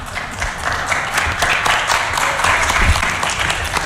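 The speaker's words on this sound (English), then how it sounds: "What are we clapping for?" Applause from a small crowd of reporters at a presidential press conference, a steady wash of clapping with no speech, holding fairly loud and even for several seconds.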